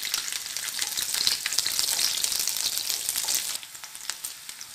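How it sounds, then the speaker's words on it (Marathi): Onion sautéing in a pan for restaurant-style paneer chatpata, a steady, loud hissing sizzle that runs throughout and drops slightly in level near the end, with no voices. "आता कांदा परतून घेऊया."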